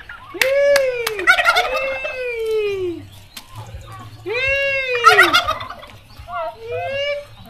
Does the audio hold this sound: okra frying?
no